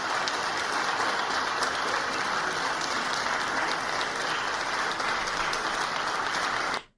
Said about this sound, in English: The Democrats are clapping right now